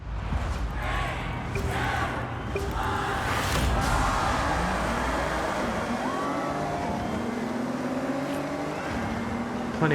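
Mercedes-AMG SL engine with nearly 400 horsepower from a smaller-than-usual engine, racing in Forza Horizon 6 on a road race: a loud, steady engine drone with rising and shifting revs throughout, under crowd-like background noise and some talk.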